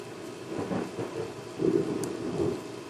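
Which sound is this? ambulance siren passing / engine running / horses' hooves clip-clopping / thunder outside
thunder outside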